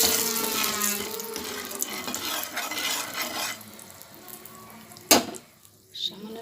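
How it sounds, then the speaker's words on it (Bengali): Water is poured into a pan of spices in a kadai for a fish curry, a close, steady gush and sizzle for several seconds, ending with a sharp metallic clink. "সামান্য একটু জল দিয়ে দিই"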